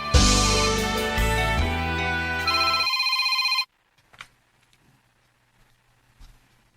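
A telephone rings with a loud, bright electronic ringtone pattern for a few seconds, then cuts off abruptly, followed by near silence with a few faint clicks and handling noises.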